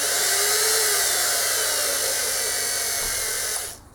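A bench grinder or belt sander runs steadily with a loud, continuous high-pitched whine as a bolt head is held against it, then winds down and cuts out right at the end.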